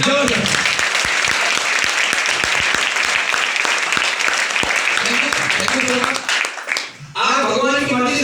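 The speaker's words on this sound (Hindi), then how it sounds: "दोनों हाथों को हवा में उठा के बस जोरदार ताली होनी चाहिए" A large audience at a business-plan meeting gives loud, sustained applause with hands raised, dense clapping filling several seconds before it briefly dips and picks up again, with voices mixed in.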